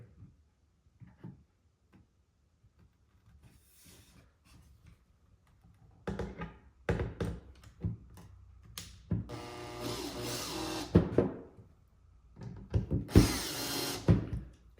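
A power drill drives screws into a cedar Adirondack footrest in short bursts of whirring, mixed with quiet clicks and handling knocks between runs.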